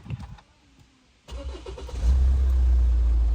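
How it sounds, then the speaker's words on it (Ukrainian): A 2013 Hyundai Santa Fe's engine cranks via keyless start and catches after a quiet pause, then settles into a steady, loud idle with a deep low rumble close by. "Так, записую виду відео запуску, от, безключовий доступ"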